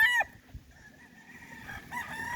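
A rooster at a gamefowl farm crows loudly and close at the start, then fainter crowing and clucking from other fowl carry on in the background of the open farm.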